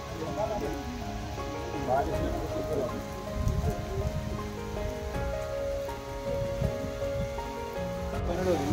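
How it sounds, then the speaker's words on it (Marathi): Heavy monsoon rain pouring steadily in Coorg, Karnataka, a dense, constant patter with wind, heard under a voice and some background chatter throughout. "पाऊस चालू झालाय मस्तपैकी"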